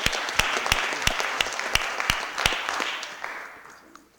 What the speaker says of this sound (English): Let's give Jasmine a big round of applause.